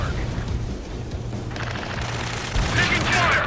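Dense rattling gunfire from an Ace Combat 7: Skies Unknown battle, mixed with explosions and radio chatter over a steady engine drone, growing louder and busier near the end.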